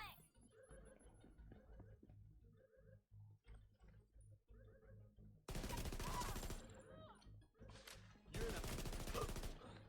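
MK16 rifle gunfire in the video game The Division, bursts of rapid shots that come to a loud dense barrage in the second half, with game sounds and a voice speaking between them.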